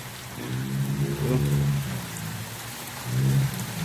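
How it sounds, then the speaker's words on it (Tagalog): Heavy rain pours down in a steady, dense hiss on a farm with turkeys, chickens and ducks, with a couple of brief low honking calls rising over it. "lumukas yung ulan"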